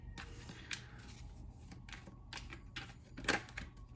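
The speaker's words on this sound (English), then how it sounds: "I'm going to shuffle the Rider-Waite-Smith Tarot deck" Rider-Waite-Smith tarot deck shuffled by hand, quiet repeated crisp riffles and card slaps in short bursts, close and faint, with no one talking.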